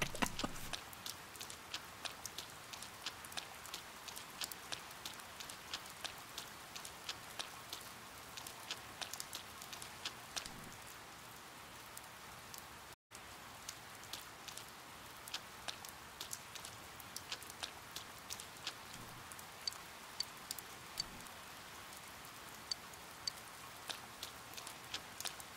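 Steady rain falls in Persona 4, a soft continuous patter dotted with sharper drops tapping on surfaces, quiet and unbroken apart from one brief gap.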